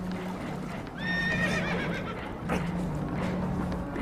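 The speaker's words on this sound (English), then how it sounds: "Horses are spooked" Spooked horses whinny in Red Dead Redemption 2: a shrill, wavering neigh rises over a steady low rumble of water and creaking, with faint hoof clatter and a second, shorter whinny after it.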